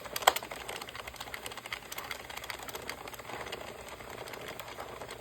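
An Addi knitting machine runs after its needles are cleaned, a fairly quiet, steady stream of rapid light clicks and ticks with a few sharper snaps near the start.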